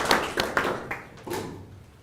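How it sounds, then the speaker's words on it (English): Training participants clap in a few scattered, faint bursts that fade quickly. "So another hand clap."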